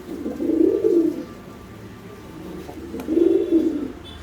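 Racing stock pigeons coo in two low, throaty rolling phrases separated by a quiet pause, close and clear with no talking.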